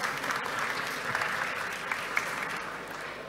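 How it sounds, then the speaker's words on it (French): A room full of people applauds steadily, a dense wash of clapping with no voices standing out. "allez-y, vous pouvez l'applaudir"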